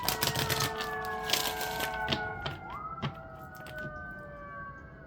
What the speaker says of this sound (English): The sirens outside